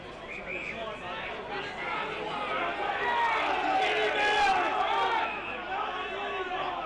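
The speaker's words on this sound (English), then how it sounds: "Crowd really getting animated now." Crowd at an Australian rules football semi-final at Angaston Oval, Angaston versus South Gawler, a loud animated roar of voices and shouts swelling mid-way then easing, with a commentator speaking over it.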